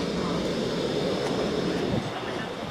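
Overground passenger train on the Forest Gate line in East London, between Wanstead Park and Woodgrange Park, heard from inside as a steady, loud rumble and roar of the carriage riding the rails, with no clear voices.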